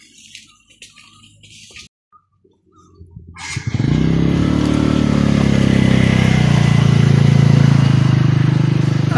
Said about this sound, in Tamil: மலை மேலே வண்டி வருது கொழுந்து எடுக்கிறதுக்கு. மேலே ஏறி வருது வண்டி.